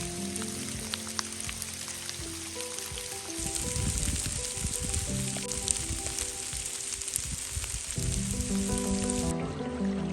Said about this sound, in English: it's not snow, but it's sleet. Sleet! You can hear it hitting the trees.